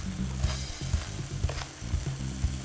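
Chicken thighs searing in a hot pan, a loud continuous sizzle with crackling pops and scraping stirs, close and with no talk.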